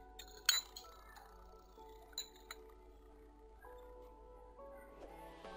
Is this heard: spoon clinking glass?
yes